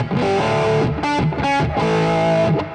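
A distorted lap steel guitar plays rhythm chords higher up the neck, away from power chords, in loud, sustained bursts with short breaks between strums and no talking over it.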